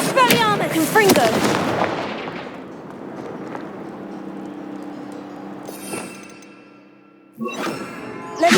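Spell blasts from the Hogwarts Legacy game burst out as loud, sharp explosive cracks early on, then fade to a low rumble before more crackling, brighter hits return near the end, with a voice calling out among them.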